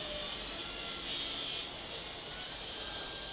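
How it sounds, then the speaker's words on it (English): A power saw rips a board to width in a woodworking shop, giving a continuous, bright whining and rasping cut that holds a steady level for about three seconds with no talk. "Keeping it as thick as possible. And just roughly ripping it to width now."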